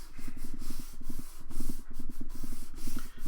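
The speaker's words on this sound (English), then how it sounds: "So I'm going to rub it for a few moments just to make sure that it's really stuck down." A hand rubs briskly back and forth over a paper page pressed onto a journal to stick it down, a close, rhythmic scuffing in quick repeated strokes.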